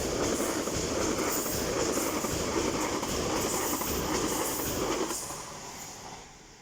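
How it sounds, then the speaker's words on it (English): An LNER passenger train between Edinburgh Waverley and London King's Cross rushes through Durham station, a loud, close, continuous roar of wheels and rails that fades toward the end, with no voices. "Passing through now is the LNER service after Edinburgh Waverley from London King's Cross."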